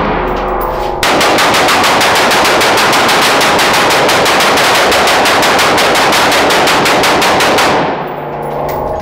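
Paintball gun firing on automatic, a rapid even burst of sharp cracks at a steady rate lasting about seven seconds, loud and close, starting and stopping abruptly.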